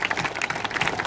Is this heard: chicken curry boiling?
no